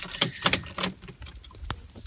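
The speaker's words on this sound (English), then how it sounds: "Gotta get the keys. You need the keys." A bunch of car keys for a BMW E46 330Ci jangles close up, a bright metallic rattle in quick clustered shakes, with no talking.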